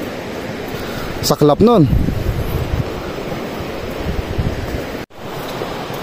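Gusty wind blowing outdoors on a windy morning, a steady broadband rush at the microphone with a brief dropout near the end; a voice speaks briefly early on.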